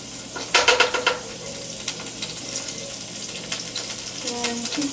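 Meatballs frying in hot oil in a home kitchen, with a steady sizzle and close spoon clinks and stirring scrapes, busiest early on and continuing quietly throughout.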